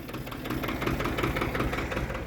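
A large, heavy tractor engine chugs steadily up close near muddy ground, a rough knocking drone that stays loud and unbroken throughout.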